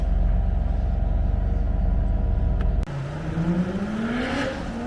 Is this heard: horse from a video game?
no